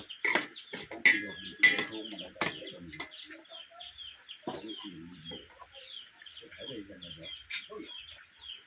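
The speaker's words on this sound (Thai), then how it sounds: "ไก่สองตัว" Two chickens cluck and squawk close by at a rural Thai home, with sharp calls in bursts early on and quieter, scattered clucks between them.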